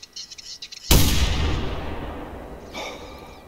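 A 12 gauge shotgun fires at wood grouse on a hunting reserve in theHunter Classic: one sharp, loud blast with a long rolling echo that fades over a few seconds, after faint birdlike chirps, with a softer sound near the end.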